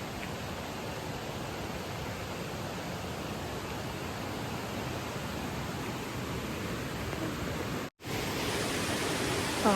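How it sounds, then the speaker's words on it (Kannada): Water rushing at Sahasralinga during the monsoon, a dense, steady roar of flowing river that fills the whole clip, broken by one very brief dropout before the torrent resumes. "ಫುಲ್ಲು ನೀರು ಹೋಗ್ತಾ ಇದೆ"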